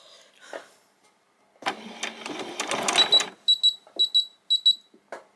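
A sewing machine stitches fabric for a pair of summer shorts. Close fabric rustling and handling give way to a brief run of the motor, then a row of quick, evenly spaced stitching bursts.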